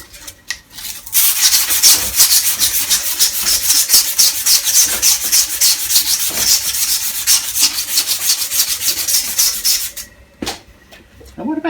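A hand file rubs back and forth across the end of a salvaged AL960B lathe shaft, a continuous fast rasping scrape, loud and close, stopping near the end with a brief voice.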